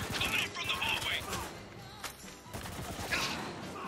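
Shotgun blasts in Spec Ops: The Line, repeated heavy booming shots close by, layered over dense battle noise with a voice talking through it.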